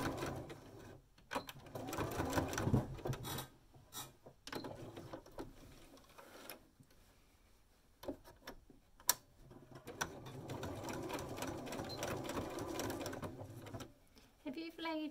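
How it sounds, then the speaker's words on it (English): A home sewing machine stitches fabric for a nutcracker advent calendar in steady whirring bursts with rapid mechanical ticking, stopping and restarting several times, while a person talks between runs. "I know my sewing machine can handle going over them."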